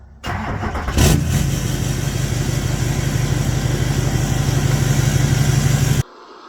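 A tuned and deleted Chevrolet 2500 HD crew cab short box 4x4 truck with a 6.6 L Duramax LMM diesel runs steadily nearby, a loud rumbling idle with a rhythmic low throb that starts abruptly and then cuts off near the end.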